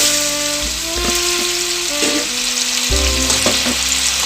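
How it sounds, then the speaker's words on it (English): Marinated pork hits hot oil and sizzles steadily and loudly at close range, a dense continuous crackle with occasional stirring noises and faint tonal hum underneath. "Once the oil heats up, I'm going to add my marinated meat."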